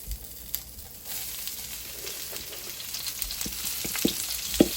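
Spinach stir-frying in about 1.5 tablespoons of hot oil alongside mushrooms, a steady close sizzle with scattered crackles and pops growing sharper toward the end.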